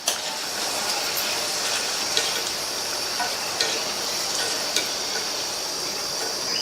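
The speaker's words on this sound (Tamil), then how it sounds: "நல்லா பெரட்டி விட்டு மொறுன்னு ஃப்ரை ஆயிடுச்சு. எண்ணெயோட சத்தமும் ஓரளவு அடங்கிருச்சு." Okra pieces frying in hot oil for a South Indian varuval: a steady, even sizzle with faint crackles and a few light clicks from stirring, heard alone at close range.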